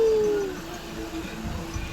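A dog howls with a long, falling wail, then whimpers softly and unevenly beneath faint background noise, heard close and fairly loud at first before fading.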